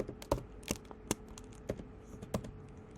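A username is typed on a computer keyboard as a quick, uneven run of close, crisp key taps and clacks with brief pauses, heard alone without talk.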